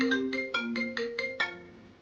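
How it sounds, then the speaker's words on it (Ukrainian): A phone ringtone announcing an incoming call, a quick repeating melodic pattern of seven bright electronic notes played clearly and alone. "входящий дзвінок мені знову дзвонить"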